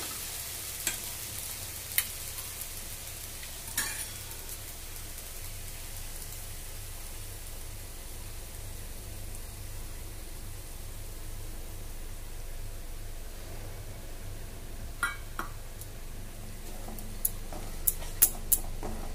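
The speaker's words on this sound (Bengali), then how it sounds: "আমরা ভালো করে ফ্রেশ ক্রিমটাকে নাড়িয়ে নেবো" Fresh cream is stirred into egg masala in a pan with the heat just switched off. A soft, steady sizzling hiss runs throughout, with a few faint taps from the spoon.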